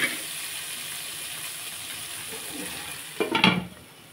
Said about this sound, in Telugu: కొబ్బరి కూడా మనం వేసేసి కొంచెంసేపు ఫ్రై చేసుకుందాం.